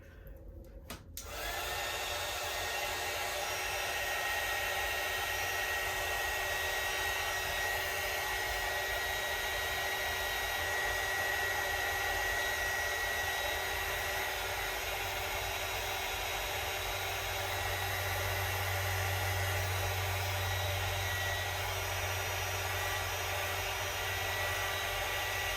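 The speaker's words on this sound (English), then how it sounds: "Let me just get my heat gun here." Heat gun drying a page of a mini file-folder junk journal, blowing as a steady, close, continuous roar that starts after a brief moment of quiet and runs without a break.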